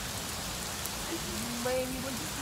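Rain falls steadily on a surface as an even, close hiss, with a faint tonal sound and a soft voice briefly in the background near the end.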